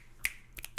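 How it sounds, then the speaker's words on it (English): Finger snapping from a gathered crowd at a poetry reading, a few sharp, crisp snaps spaced irregularly and heard up close against a quiet background. "the crowd who are gathered start snapping their fingers in that applause kind of thing"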